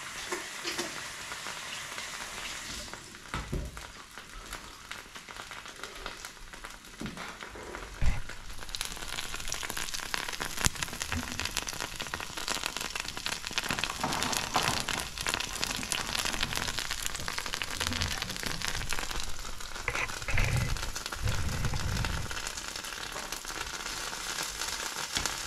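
Panackelty cooking in a pan gives a steady, close sizzle and crackle with soft bubbling. It runs continuously with occasional louder pops and no talking.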